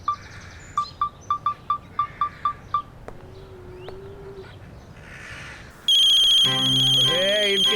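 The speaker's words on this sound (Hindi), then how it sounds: "किसका फोन आ गया भाई?" A mobile phone ringtone chimes in a quick run of repeated beeps, then a bird-like squawk and a brighter melodic ringtone take over loudly.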